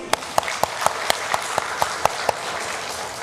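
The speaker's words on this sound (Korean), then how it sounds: "박수하겠습니다." A church congregation at a Sunday service claps together, about nine sharp, evenly spaced claps in quick rhythm, then the room falls quiet.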